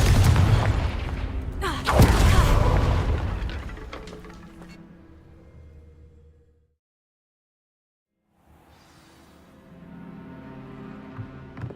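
A Confringo fire spell in Hogwarts Legacy lands as a deep, loud boom around two seconds in, with a rumbling tail that fades to silence before faint ambience returns.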